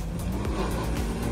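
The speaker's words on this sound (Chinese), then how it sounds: "哦，油门加下去，" An SUV's V6 engine revs hard under throttle as it climbs a steep off-road slope, a steady close-up drone that surges and holds without a break.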